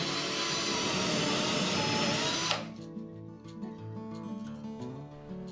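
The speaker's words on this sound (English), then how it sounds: "then drilled full pilot holes into the framing behind it" A power drill bores pilot holes into wall framing, a loud steady whir for about two and a half seconds that stops abruptly, followed by quieter ringing and light tapping.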